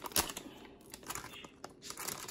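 A Lego minifigures Series 19 blind bag is torn open by hand, giving close, quiet bursts of crinkling and ripping plastic in an irregular rhythm with short pauses.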